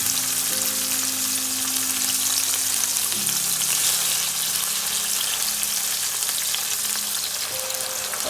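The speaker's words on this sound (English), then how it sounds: "Just keep on stirring and stirring" Yellow onion sizzling in a pan while being stirred continuously, a loud, close, steady frying hiss with low scraping tones underneath and no one speaking.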